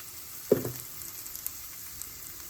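Onions sautéing with turmeric in oil for a Kerala-style fish curry, a soft continuous sizzle with one distinct knock of a utensil early on and a few faint clicks after.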